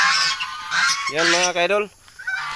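Loud nasal honking from a domestic goose nearby, among farm geese and ducks, a couple of harsh calls, with a person speaking briefly around them.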